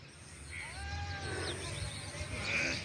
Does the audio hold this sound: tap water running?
no